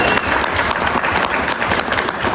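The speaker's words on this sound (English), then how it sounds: "So everyone please give him a round of applause." A crowd at a comic con applauds steadily after an organ show, dense clapping from many hands filling the room at a consistent loud level throughout.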